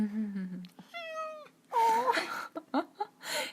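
A cat meows several times close by, drawn-out and pleading calls with short pauses between them.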